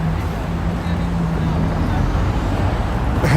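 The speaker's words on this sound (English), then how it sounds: "All this traffic coming off Bremner." Road traffic coming off Bremner Boulevard in Toronto at late afternoon, a steady roar of passing cars and engines heard from a street median, loud and continuous, with a voice talking over it.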